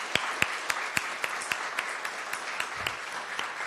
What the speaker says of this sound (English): Can we get a round of applause for all our candidates this evening?